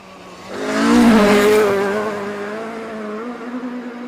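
A Mark II rally car with a 2.5 engine roars past close by on a rally stage, rising to a loud high-revving peak before easing off into a sustained drone.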